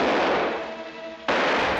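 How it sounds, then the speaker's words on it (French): Gunfire from film scenes cracks out in bursts, loud and close, with a sharp new burst cutting in after a brief dip, no voices over it. "des coups de feu en veux-tu dans Les Incorruptibles"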